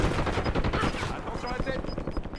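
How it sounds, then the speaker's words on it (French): Rapid automatic gunfire in a Call of Duty Warzone match, dense bursts of shots close and loud throughout, with game voice chatter mixed underneath. "J'essuie des tirs."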